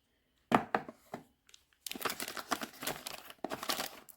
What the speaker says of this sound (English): return the sealed plastic bag to the original box, which is this